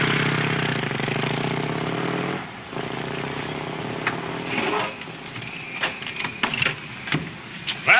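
A car engine revs and accelerates in a steady mid-pitched drone for a couple of seconds, dips briefly, then carries on unevenly under a scattering of sharp clicks and knocks.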